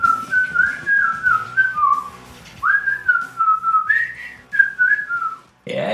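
A person whistles a lilting tune in clear, sliding phrases close to the mic. The melody comes in two runs separated by a short pause, and a brief noise cuts in at the very end.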